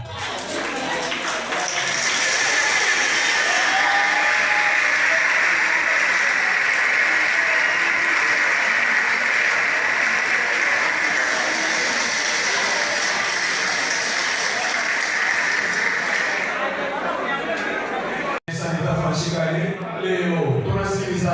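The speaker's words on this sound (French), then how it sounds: "On applaudit, s'il vous plaît." A crowd at a ceremonial event applauds and cheers at full volume, a loud, sustained roar of clapping with a bright shrill edge that holds for most of the stretch before cutting off abruptly near the end.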